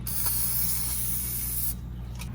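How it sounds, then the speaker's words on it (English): A continuous hissing spray from an aerosol can of penetrating oil runs close by for nearly two seconds, then stops, leaving a low background hum. "So let's spray some of this on there."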